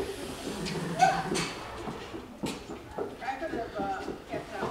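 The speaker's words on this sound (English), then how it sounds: "And more horses are coming by." Horses walk past outdoors, their hooves clip-clopping in a soft uneven rhythm at moderate distance, partly under a person talking nearby.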